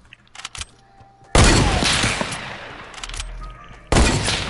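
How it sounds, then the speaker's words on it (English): Bursts of video game gunfire during a multiplayer shootout with shotguns in play: a few faint shots, then a long loud sustained volley, a pause, and another loud burst at the end, close and dense. "Bro, why are you shooting down?"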